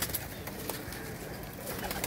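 Pigeons, golden teddy and other breeds kept in pairs on a rooftop loft, cooing softly and steadily in a dense, low murmur with faint chirps, no voices over it.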